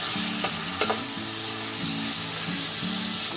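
Bone-in chicken sizzling as it fries in a pan of oil for chicken korma, a steady close crackle broken by a couple of sharp clanks of a stirring spoon against the pan.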